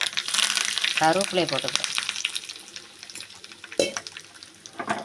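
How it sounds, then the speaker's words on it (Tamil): Mustard seeds crackle and splutter in hot oil in a pan while a mixed vegetable kootu is being cooked, giving a busy, close sizzle with sharp pops under someone speaking. "இப்போ கடுகு பொரிய ஆரம்பிச்சிருச்சு."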